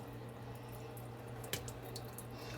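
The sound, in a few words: water draining from cooked spaghetti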